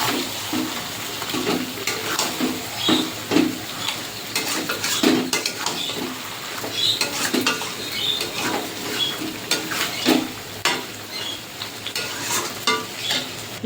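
Chicken chaap cooking in a cashew gravy in a pot, stirred with a metal spoon that scrapes and clinks repeatedly over a low bubbling sizzle, close and continuous.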